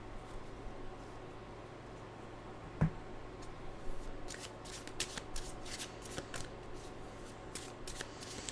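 A deck of animal oracle cards is shuffled close by in a quiet room, a soft riffling flutter of repeated quick bursts after a single sharp tap.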